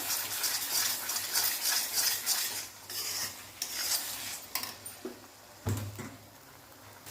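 Paneer gravy being roasted and stirred in a pan, with repeated scraping strokes of a spoon against the pan, close up, and a few sharper knocks near the end.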